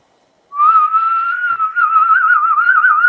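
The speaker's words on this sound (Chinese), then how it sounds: "我来试试吹口哨" A person whistles a sustained, slightly wavering tone with a faint upper harmonic. It starts abruptly after half a second of near silence and holds steadily close and loud to the end, with a brief dip midway.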